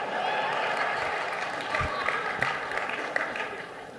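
Audience applause at a political summit in Iowa, a broad roar of clapping and crowd noise filling the hall at steady volume, with a few sharper claps standing out.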